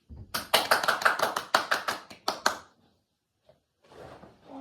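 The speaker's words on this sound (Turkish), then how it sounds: "Alkış." A short burst of hand claps from a few people at home while watching an AZ Alkmaar versus Fenerbahçe football match, about ten quick, close claps lasting two seconds, then a brief pause and faint shuffling.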